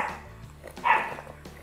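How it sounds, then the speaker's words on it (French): Dogs bark outdoors in the distance, heard faintly through a home kitchen: a muffled burst in the middle stands out over a low background hum. "Les chiens sont en train de faire la foire dehors."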